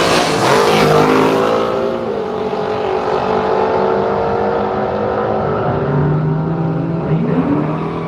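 Drag racing cars, including a sedan, accelerate down the strip at Willowbank Raceway, a loud, sustained engine roar with rising harmonics that gradually eases as the cars pull away.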